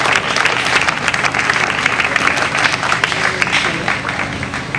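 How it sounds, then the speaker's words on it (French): Loud, sustained applause from guests at an official civil wedding ceremony, a thick steady wash of clapping with some voices mixed in. "Applaudissez s'il vous plaît."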